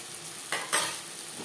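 Onion and tomato fry with turmeric, ginger paste and green chili paste for a potato and hilsa curry, a soft sizzle with two brief stirring scrapes near the middle.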